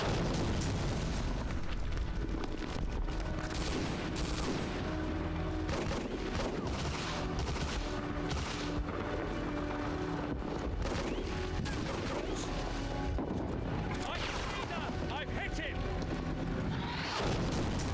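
Continuous loud gunfire and booming tank explosions fill a battle in the video game Hidden and Dangerous 2, with bursts of rapid shots and heavy blasts layered densely throughout.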